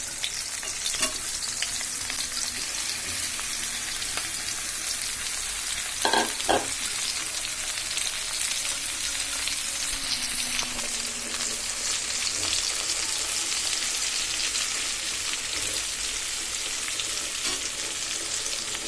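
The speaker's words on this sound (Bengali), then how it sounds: "এবার আমি সব উপকরণ দিয়ে মেখে রাখা ঢেঁড়সগুলো দিয়ে দিচ্ছি।" Okra tossed with onion, garlic and green chili sizzles steadily in a pan, a continuous close frying hiss with a couple of brief stirring clatters partway through.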